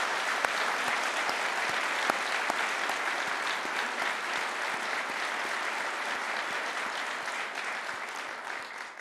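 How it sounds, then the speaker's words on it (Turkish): Sustained, dense clapping from a large audience at a Turkish event announcing the firms that will build a domestic car. The applause is steady and loud for about nine seconds, with a few sharper claps standing out. "Ahmet Bey, sizi de şöyle bir alkışlayalım."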